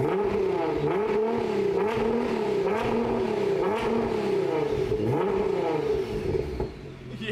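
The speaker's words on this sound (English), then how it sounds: "I wanted to hear the new exhaust now." A car engine with a new exhaust revs up and down repeatedly, its exhaust note swelling and dropping in steady waves, close and loud, easing off at the end.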